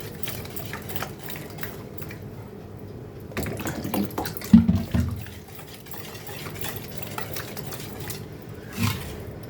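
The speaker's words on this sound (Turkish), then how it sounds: "Bir su bardağı kadar su ilave ediyorum ben" Water poured from a glass into a cooking pan for an Aksaray tava dish, a steady close splashing and gurgling that swells in the middle and tapers off, with no talk over it.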